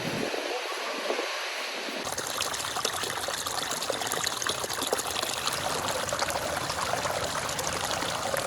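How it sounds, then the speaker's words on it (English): Fermented milk, ayran, pours from a bucket into a bag in a meadow setting, a steady close trickling and splashing stream that starts after a quiet moment and runs on. "They had just now poured fermented milk from a bucket into a bag."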